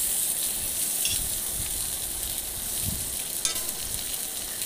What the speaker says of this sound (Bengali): আমি আজকে মাছের তেলে বেগুন ভেজে দিলাম